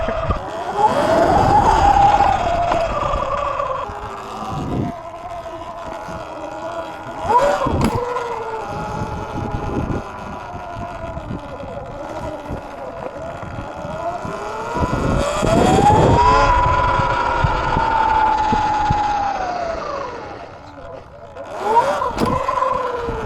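An E-Ride Pro 3.0 72V electric dirt bike ridden hard in sport mode, its motor whining in rising and falling pitch sweeps as it accelerates and backs off, loud and close, with a couple of sharp bursts.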